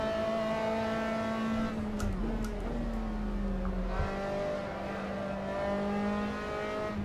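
Open-wheel SRS F3 race car engine in Assetto Corsa screams at high revs, pitch sliding down and climbing again through gear changes, loud and steady throughout with a brief low rumble in the middle.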